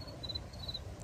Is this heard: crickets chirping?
yes